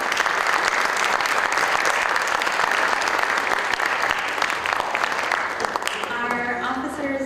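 Audience at a high school National Honor Society induction ceremony applauding steadily for several seconds, a full room of clapping that fades as a voice begins speaking near the end.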